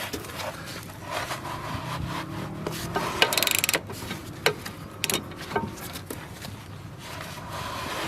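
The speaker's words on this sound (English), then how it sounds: "It's easier to move the spanner than it is the ratchet." A spanner and ratchet working the nut on the front roll bar drop link of a 2007 Vauxhall Astra, giving irregular scraping, rubbing and clicking metallic sounds, close and moderately quiet, with no talking.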